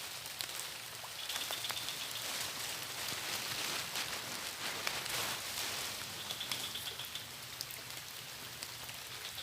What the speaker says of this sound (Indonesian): hari hujan nggak mau berhenti